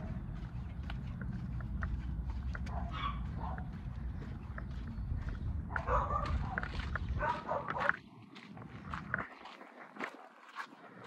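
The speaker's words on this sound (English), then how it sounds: "Oh, these dogs." Several dogs barking and yipping indoors at home, a steady run of close barks with whimpers and footsteps, ending as a door seems to shut and the noise drops.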